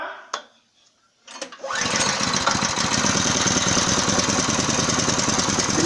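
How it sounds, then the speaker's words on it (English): A small engine driving a car-alternator welding generator starts up after a few clicks and knocks, then settles into a steady, close, low-RPM idle with a continuous chugging drone. "The machine is running at a very low RPM."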